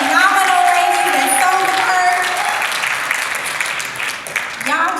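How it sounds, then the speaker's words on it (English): A crowd at a live show in Chicago applauds steadily under a host speaking loudly, and the clapping thins near the end as the talking carries on. "Let's give one more round of applause for Pia and the phenomenal lady"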